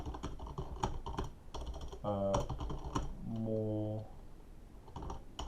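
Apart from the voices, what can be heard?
typing feedback on a computer keyboard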